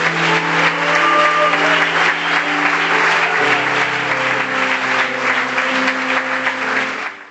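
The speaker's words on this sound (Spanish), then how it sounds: "Aplauda fuerte para Dios." Church congregation applauding loudly during a Spanish-language service, a continuous wash of clapping over sustained music with held organ- or keyboard-like tones, full and steady throughout before fading at the end.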